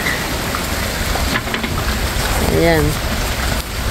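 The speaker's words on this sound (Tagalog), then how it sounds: "malakas ang ulan" Heavy rain pours down in a steady, dense hiss, with a voice briefly speaking over it.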